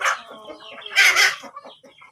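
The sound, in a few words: chickens clucking in a coop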